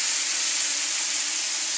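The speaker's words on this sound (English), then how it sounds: "Ooh, I like that sizzle sound." Bacon jam with brewed Sumatra coffee sizzles in a hot pan, a constant, even hiss that holds steady without any talk.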